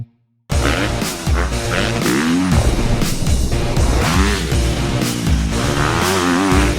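A 2013 KTM 250 SX-F motocross bike engine revs hard and loud up close, its pitch rising and falling in repeated high-rpm sweeps after a brief moment of silence.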